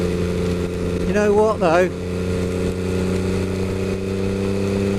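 An MV Agusta F3 800 motorcycle being ridden in snowy weather, its engine holding a steady droning tone throughout, with a brief revving rise and a short spoken phrase partway through.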